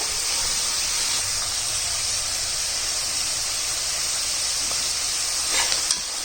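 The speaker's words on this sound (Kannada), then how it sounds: "ತರಕಾರಿ 1 ನಿಮಿಷ ಎಣ್ಣೆನಲ್ಲಿ ಬಾಡಿಸ್ಕೋಬೇಕು" Vegetables for sambar sautéing in hot oil make a steady, close, loud sizzling hiss that runs unbroken throughout, with a couple of brief stirring scrapes near the end.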